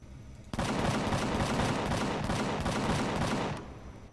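A cannon turret in Empyrion Galactic Survival fires a loud, sustained burst of rapid, evenly spaced shots for about three seconds, then cuts off abruptly.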